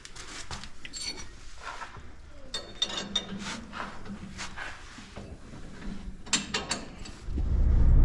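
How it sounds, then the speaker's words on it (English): A ratchet clicks and rasps as bolts are tightened on a Silverado in a shop, with repeated bursts of mechanical clicking and metal handling, moderately close, before a low rumble rises at the end. "Get Jimmy putting the bolts on it"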